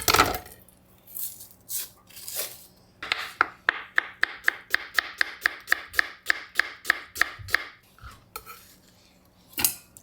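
A knife chops an onion on a cutting board for aji sashimi. A steady run of about twenty quick, crisp chops is framed by a few scattered knocks and scrapes, with no voices.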